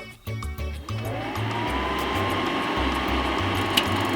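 An Atwood RV furnace, its motor newly replaced, starts up and runs with a steady whirring blower hum. Low rhythmic thumps sound underneath at first, then the hum settles into a constant drone.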